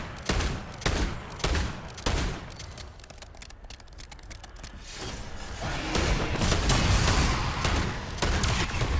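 Gunfire in Modern Warfare 3 Zombies: bursts of rapid shots and booms, dense at the start, thinning midway, then a sustained rattling barrage that builds loud toward the end.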